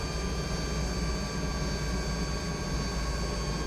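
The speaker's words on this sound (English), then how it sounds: "I can make it a little bit louder so you can hear some of the engine sounds" Alouette helicopter engine in Microsoft Flight Simulator 2024, a steady broadband turbine roar with a constant high whine layered on top, loud and unbroken throughout with no talking.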